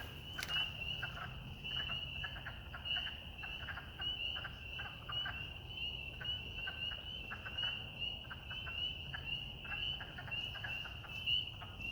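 Frogs call at night in a dense chorus, a continuous high-pitched pulsing trill with rapid repeated peeps layered over a faint low background, heard at a moderate distance with no talking.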